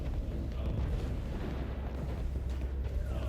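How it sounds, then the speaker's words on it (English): A remote mine explosion in the video game Hitman: Blood Money, heard as a continuous deep, rumbling blast with dense low-end roar and debris noise throughout, loud and sustained. "Then the target spawns and dies to the second explosion."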